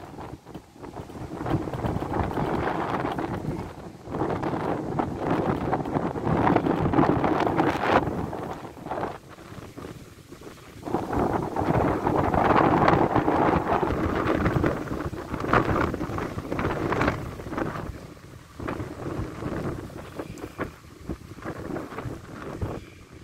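Strong gusting wind at the onset of a hurricane in Moscow, roaring and buffeting the microphone in long swelling waves with brief lulls between, continuous and loud throughout.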